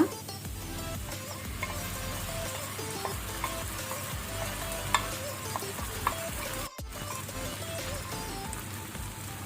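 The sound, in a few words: ground masala frying and stirring with onions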